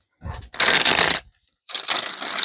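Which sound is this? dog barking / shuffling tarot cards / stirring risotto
shuffling tarot cards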